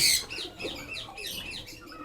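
A pigeon resting quietly on a rooftop loft, giving soft, faint chirping calls at close range.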